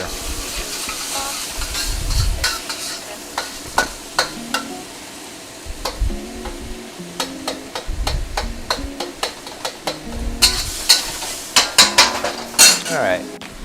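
Thai basil chicken (pad gra prow) sizzles in a wok that is repeatedly tossed and scraped, with bursts of frying, metallic clanks of utensil on pan, and rhythmic shuffling close by, and no voices.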